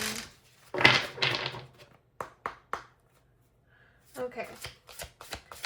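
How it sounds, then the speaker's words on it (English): Tarot cards are shuffled by hand in a quick riffling burst, followed by a few sharp taps and then a second round of shuffling, close and clear, with a brief spoken word in between. "I feel like I need to shuffle one more"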